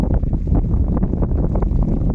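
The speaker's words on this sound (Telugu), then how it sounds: "ఇలాంటి గాలి వాతావరణం వచ్చినప్పుడు మాత్రం అందరం కన్నా భయంకరంగా అనిపిస్తుంది" Strong wind buffets the microphone beside a small fish pond, a loud, continuous, gusty rumble that rises and falls without a break.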